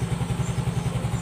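A fuel-injected Yamaha Mio S motorcycle engine idles just after starting, with a close, steady, rapid putter of even pulses and no talking.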